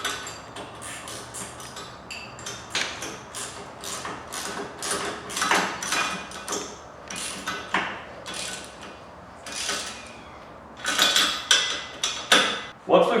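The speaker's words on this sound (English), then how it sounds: "The next step, we'll tighten all 3 of these bolts." Bolts are tightened on a snow plow bracket for an EZGO TXT golf cart. Close, loud metallic clicks and ratcheting taps repeat irregularly throughout, with brief pauses and a louder cluster near the end.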